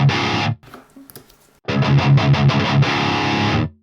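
Electric guitar played through a Neural DSP Granophyre amp plugin set to 6L6 power tubes, giving a loud, distorted burst of chugging chords, a short quieter pause, then another sustained driven riff with rhythmic palm-muted notes.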